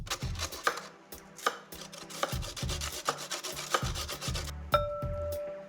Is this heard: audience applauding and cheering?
no